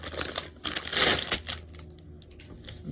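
A vacuum-packed plastic bag from a fishing gift box is opened with scissors and crinkled by hand, giving close, sharp crackling bursts that peak early then fade into sparse rustles.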